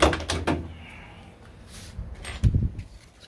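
Door of a 1969 Corvette C3 opened during body work, giving a couple of close mechanical clunks and a latch rattle at the start, then another knock and scrape near the end.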